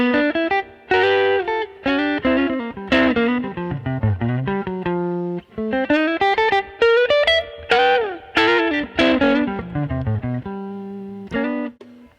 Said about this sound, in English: You can go from a subtle sound with just a touch of reverb